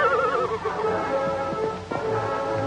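A horse neighs loudly over a busy, noisy background of other sounds.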